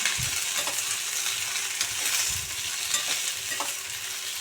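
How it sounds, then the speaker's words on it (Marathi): Two large lengthwise-chopped tomatoes sauté in hot oil with garlic for homemade palak paneer, giving a steady close sizzle with a few soft stirring knocks throughout and no talking. "आणि 2 मोठे उभे चिरलेले टोमॅटो. ते तेलामध्ये मस्तपैकी जरा परतून घ्यायचं."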